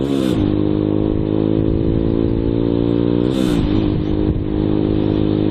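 A 300cc motorcycle engine idles loudly up close, revving sharply twice with a rising roar before settling back.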